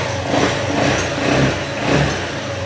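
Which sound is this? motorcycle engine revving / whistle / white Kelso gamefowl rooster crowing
motorcycle engine revving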